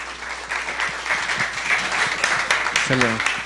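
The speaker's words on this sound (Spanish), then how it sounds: "Les pido un aplauso para recibir a estos panelistas" An audience at a panel discussion on social impact investment claps and applauds steadily for a few seconds, with a voice speaking over the noise near the end.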